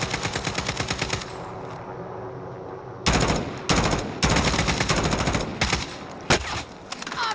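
Call of Duty Warzone gunfire: rapid automatic bursts crackle in quick rhythmic strings, starting moderately and then growing loud and close in dense volleys separated by brief pauses.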